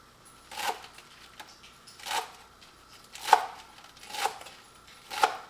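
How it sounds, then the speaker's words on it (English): A knife cuts romaine lettuce into strips on a cutting board in five distinct, crisp chops spaced roughly a second apart, close and clear against a quiet kitchen. "I'm going to cut up my romaine into strips that I can add into my taco bowls"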